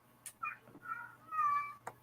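Cats meow several times, short separate calls and one longer drawn-out meow, faint against a quiet hum, with no talk.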